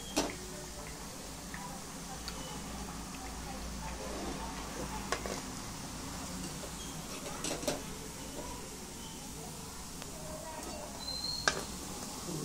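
Food frying in hot oil, where garlic and chillies are being fried, gives a steady sizzle with scattered ticks and clinks of utensils throughout, continuous and moderately close.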